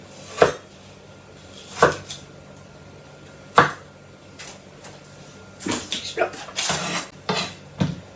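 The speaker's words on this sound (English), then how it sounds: "And you don't need to watch me chopping up apples." Sharp knife strikes against a board while chopping apples, a few spaced chops then a quicker cluster of cutting sounds, close by with some faint background rustle.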